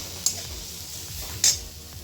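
Grated coconut and sugar being stirred in a frying pan, a soft steady sizzle with two sharp metallic clinks of the spoon against the pan.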